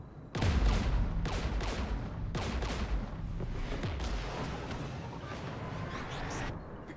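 Heavy gunfire and explosive blasts in the sci-fi shooter Mass Effect 3 during a Geth battle: loud booming impacts and dense crackling shots forming a continuous rumbling barrage.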